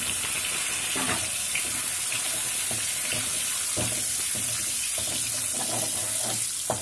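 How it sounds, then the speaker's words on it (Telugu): Eggs fry in hot oil with turmeric and salt in a kadai, giving a constant broad sizzling hiss with scattered crackles and pops and no voices. "ఆయిల్లో కొంచెం పసుపు, కొంచెం సాల్ట్ వేస్తే ఎగ్స్ బాగా వేగుతాయి."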